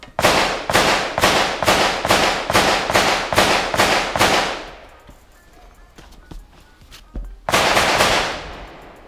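Ata Arms Neo 12 shotgun firing a Karat 12/70 slug at an outdoor range. A rapid string of loud booms rings out, then a quieter stretch, then one heavy blast with a ringing tail.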